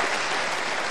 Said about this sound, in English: Applaud if you have been here before.